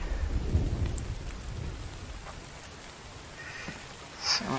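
Steady rainfall and rolling thunder come from the survival video game The Infected: a constant hiss of rain with low rumbles early on and a brighter crack near the end.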